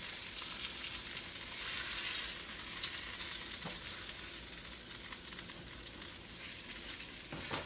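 Floured chicken pieces fry and brown in a pan of hot fat for chicken marsala, giving a steady, dense sizzle that holds near and even throughout, with a few faint utensil clicks.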